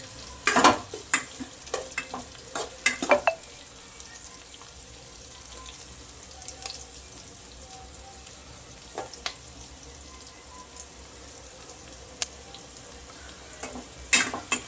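Onions and tomatoes sauté in a pan for tomato thokku, a soft continuous sizzle broken by clusters of sharp spoon-against-pan stirring clatters at the start, middle and end, no talking.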